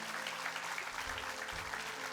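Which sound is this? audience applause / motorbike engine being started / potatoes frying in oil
audience applause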